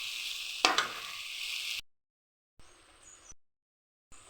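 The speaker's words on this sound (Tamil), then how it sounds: "எண்ணெய் தனியாக கிரேவி தனியாக பிரிஞ்சு வர வரைக்கும் கொஞ்சம் நேரம் வதக்கணும்" Masala gravy for mochakottai karamani kara kulambu sautés in oil until the oil separates, a steady close sizzle with a stir-scrape clatter early on, then cutting off and returning in short bursts.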